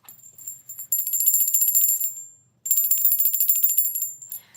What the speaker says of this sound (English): Look at this tiny bell I have